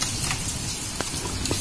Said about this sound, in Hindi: बारिश स्टार्ट हो गया है